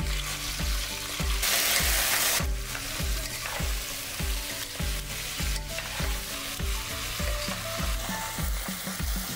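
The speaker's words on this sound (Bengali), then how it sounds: "দিয়ে ভালো করে সবজিগুলো ভেজে নেব" Vegetables for Bengali shukto sizzle steadily in a pan, a loud continuous hiss with a stronger burst early on, under a regular rhythmic backing beat.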